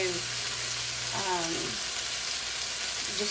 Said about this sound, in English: I'm going to let that side just kind of fry up just a little bit